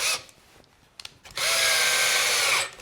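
A power drill drives stainless steel screws into a leather-covered Western saddle, with a short tap or two followed by a steady, loud whirring run of about a second that then stops.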